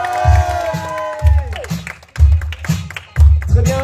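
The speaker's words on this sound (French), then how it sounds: "Et on peut les applaudir bien fort, s'il vous plaît." Wedding guests cheer and clap for the newlyweds in loud rhythmic bursts of crowd whooping, repeating about four times, while a voice calls out over the celebration.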